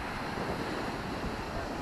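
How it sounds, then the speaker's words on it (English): Ocean surf washes onto a beach in Faro, Portugal, as a steady broadband roar, partly masked by wind buffeting the microphone. "Gotta hear the waves."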